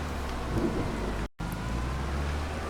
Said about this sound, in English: I think the rain is starting to slow down a bit.